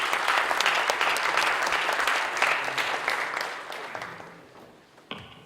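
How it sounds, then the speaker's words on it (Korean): Church seminar audience applauding as a professor comes up to lecture: loud, dense clapping that gradually thins and fades over five seconds, ending with a sharp knock and quiet room. "이 시간에 나오실 때에 크게 박수로 맞이해 주시면 감사하겠습니다."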